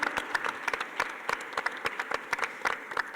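Audience claps for panelists being introduced at a public talk on sexual diversity, a modest round of fairly quiet, uneven individual claps with distinct hand strikes.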